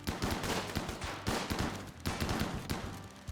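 Turret gunfire in the colony game Rimworld, rapid repeated shots in steady staccato bursts with short pauses between volleys, sharp and close.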